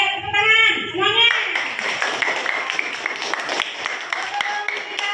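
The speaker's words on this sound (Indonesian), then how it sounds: "Ayo tepuk tangan semuanya" Schoolchildren clapping together in a classroom, a brief burst of scattered hand claps that follows a teacher's voice and continues under lively talk.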